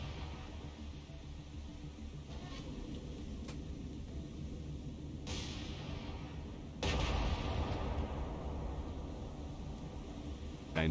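Naval gunfire from the battleship USS Indiana in War on the Sea at the Battle of Rabaul, heard as distant booming shots over a constant noisy rumble of sea and battle ambience, no voices.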